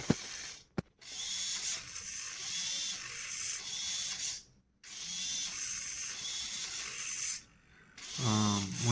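Servos drive a Tesla Optimus wrist mechanism model with whirring, ratcheting gear noise in several bursts separated by short pauses, ending in a rising motor whine.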